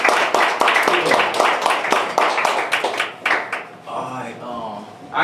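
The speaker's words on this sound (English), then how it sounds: "give them a round of applause" Audience applause and clapping fill a writing-session event, a dense burst of many hands for about three and a half seconds, then fading as a few voices and chatter take over.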